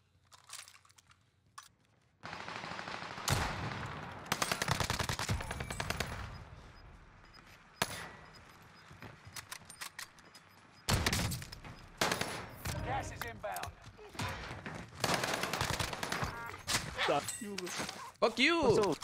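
Rapid bursts of automatic gunfire from an H4 Blixen in the video game Call of Duty Warzone, loud and repeated in clusters, with a player talking between and over the shots.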